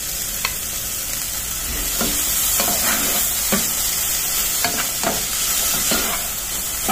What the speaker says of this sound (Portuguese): Já refogou a pimenta de cheiro e o pimentão.